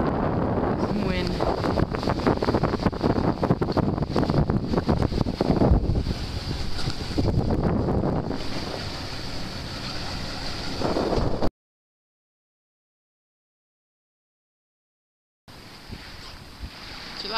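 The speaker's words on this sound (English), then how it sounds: "Some wind." Wind gusts across a sailboat under sail in Alaska's Inside Passage, a loud continuous roar of wind buffeting the microphone, with water and hull noise beneath; the sound cuts out briefly near the end, then the wind returns.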